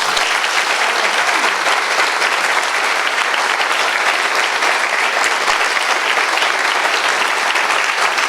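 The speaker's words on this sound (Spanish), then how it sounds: "yo quisiera que le demos un aplauso a Patricia." Applause for author Patricia Lara at the launch of her book, a full, dense roar of clapping from a large audience, loud and unbroken for the whole stretch with no speech above it.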